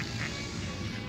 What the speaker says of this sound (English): there are wild birds here also